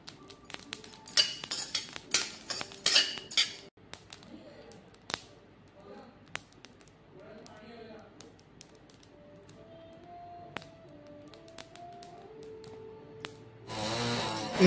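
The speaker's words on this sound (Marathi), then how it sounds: "मेथीदाण्याचा असा जोपर्यंत आवाज येत नाही तोपर्यंत छान भाजून घ्यायचं" Fenugreek and coriander seeds dry-roasting in a pan, with quick light clicks and rattles of seeds and a spoon against metal, busier at first and then sparser, faint, with some voice in the background.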